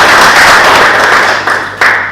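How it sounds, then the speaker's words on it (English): Loud audience round of applause at a speech evaluation session, dense close clapping that starts at full strength and tapers slightly with a brief dip and surge near the end. "Give him a round of applause"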